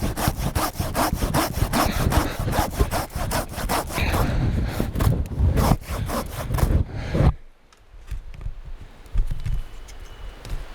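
Steady back-and-forth strokes of a hand saw cutting through a wooden log at a bushcraft camp beside a river, loud and close, ending in a brief quiet stretch near the finish.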